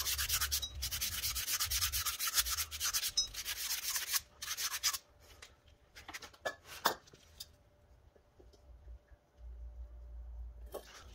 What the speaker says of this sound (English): So grab our sandpaper and then we'll just clean up that area.